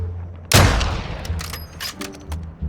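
A loud gunshot bursts out from in-game combat in Warzone 2.0 DMZ, followed by a decaying echo and scattered fainter shots and clatter.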